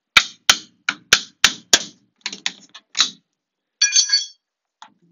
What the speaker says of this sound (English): take your hammer and strike your flat bar to remove the stud bead from the stud